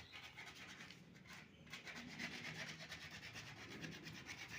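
Wood is rubbed clean with white metal paste in quick, repeated scrubbing strokes, a soft rhythmic scratching with a brief pause near the start, fairly faint and close.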